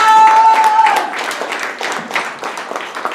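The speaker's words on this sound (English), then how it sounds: "this next game is for Parker and Jacqueline, so give them a round of applause!" An audience applauds at a Snow Day event, a dense wash of many hands clapping that starts loud and gradually thins out, with a brief sustained tone near the start.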